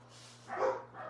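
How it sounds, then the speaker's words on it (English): A single muffled dog bark, faint and distant, with a softer trailing yelp just after it. "Sorry about the dogs barking."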